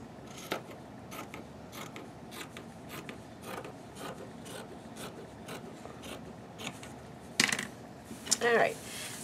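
Scissors snip through fabric being cut out for a baby girl's dress, giving a steady run of short crisp cuts over quiet room noise, with a couple of louder rustles near the end.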